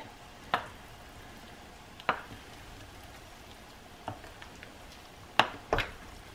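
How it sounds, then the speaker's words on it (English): A spoon stirring stew in a crockpot, giving a few sparse scrapes and clinks against the pot over a quiet background, with no talking. "I need to go ahead and stir this."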